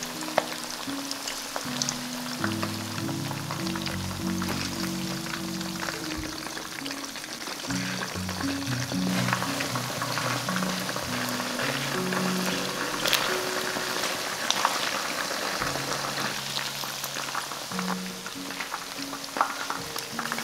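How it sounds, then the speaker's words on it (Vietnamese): Steady crackling sizzle of chicken wings frying in oil at about 180°C, dense and continuous, with occasional pops and a faint low hum beneath. "Dầu nóng khoảng 180 độ thì mình cho cánh gà vào chiên"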